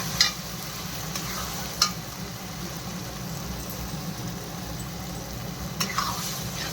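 Green peas stirred and fried in a pan for paneer matar, with a steady low sizzle and a few sharp spoon scrapes against the pan near the start and end.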